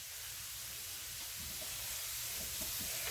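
Steady sizzling and hissing of sausage and shrimp frying in a skillet, close and continuous with faint crackles, no talking.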